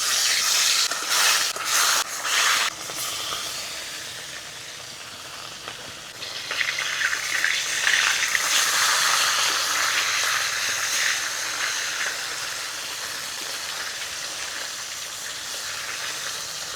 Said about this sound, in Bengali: মাছগুলোকে এবারে ভেজে নেব।